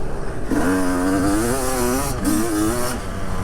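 An 18-year-old 250 two-stroke dirt bike being ridden: a raspy, revving engine note climbs and drops through two throttle pulls, steady and close, with no voices.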